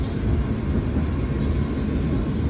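The Argo Bromo Anggrek express train rolls straight through Pegadaian Baru station under a speed restriction, a steady broadband rumble and wheel roar that stays loud and close throughout.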